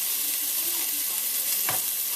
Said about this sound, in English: Just scrape off all those brown bits from the bottom.